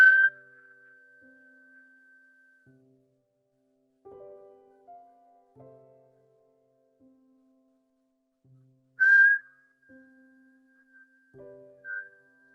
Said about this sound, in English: Continue whistling on the exhale.